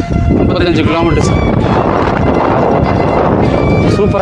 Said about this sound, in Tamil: காற்று உண்மையிலே இங்கே ஹை காற்று தான் ப்ரோ.